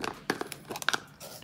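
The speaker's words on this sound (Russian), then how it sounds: "Но сейчас я готова открывать этот слаймик." Plastic packaging on a slime container crinkles and tears as it is opened up close, with sharp irregular crackles and rustles in quick bursts.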